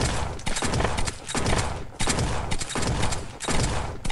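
Assault shotgun fire in the video game Zombs, a dense run of loud blasts in rapid succession with short gaps between bursts, close and without talk.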